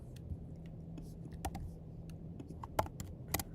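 Light, scattered keystrokes on a computer keyboard as a short word is entered, soft and close with a few sharper taps toward the end over a quiet background hum.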